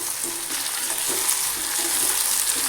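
Ripe chopped tomatoes sauté in hot oil for egg gravy, a close, continuous sizzle and crackle with soft stirring scrapes in the pan and no voices.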